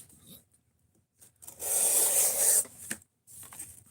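A CJRB Tigris knife with AR-RPM9 steel slices through cardboard in an edge retention test, giving a close, dry, rasping rip of about a second, framed by quieter scratchy strokes before and after.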